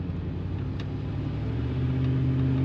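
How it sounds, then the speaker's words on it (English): A 1986 Pontiac Grand Prix Brougham with glass T-tops gives a steady low exhaust rumble under light throttle, a continuous near engine drone that swells slightly toward the end, with no talking. "Nice rumble comes out the back of this car when you give it some throttle."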